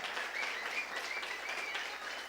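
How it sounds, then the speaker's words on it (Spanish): Faint applause from a church congregation during a Spanish-language worship service, a brief wash of clapping heard at a distance. "Dele un fuerte aplauso al Señor"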